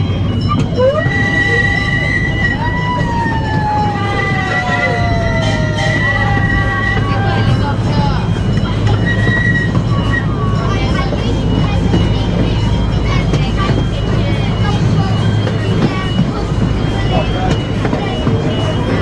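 A miniature amusement park train, the Rio Grande train at Paultons Park, rumbles steadily with a constant engine drone, faint squealing tones in the first half, and people chattering in the background.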